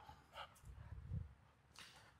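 A dog pants and huffs heavily between rounds of playing fetch with a ball. The breaths come in a few soft, close, quick bursts with a snort-like push in the middle.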